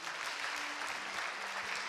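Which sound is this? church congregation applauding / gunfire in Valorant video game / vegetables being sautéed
church congregation applauding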